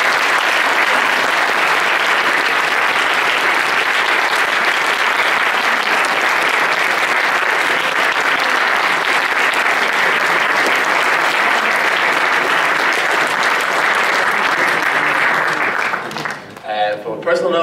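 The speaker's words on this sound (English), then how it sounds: "So, I think a round of applause." Loud, dense applause from a student audience after a university debate on USI disaffiliation, sustained steadily for about sixteen seconds before breaking off abruptly near the end.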